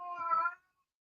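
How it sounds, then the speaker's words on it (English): A pet cat lets out a single short, close meow in a quiet room, ending abruptly with nothing else heard. "I don't know if you heard him starting to meow all over the place."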